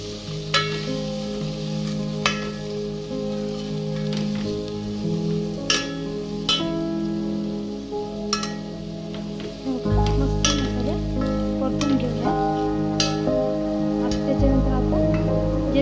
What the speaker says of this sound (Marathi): आता आपण जे मसाले काढलेले होते ते टाकून घेऊया मसाले मस्त परतूया